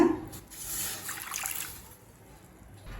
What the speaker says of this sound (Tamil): இப்போ இன்னும் கொஞ்சம் தண்ணி சேர்த்துக்கலாங்க.